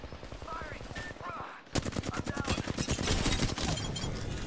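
Rapid automatic gunfire in Apex Legends, a loud dense burst of repeated shots after a brief lull, with people talking over the fight.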